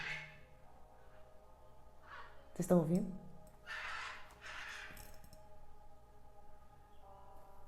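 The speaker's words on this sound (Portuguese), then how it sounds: "As araras passando." Macaws give harsh, raucous squawks as they fly past overhead, a few loud cries among quieter calls, with a person speaking briefly.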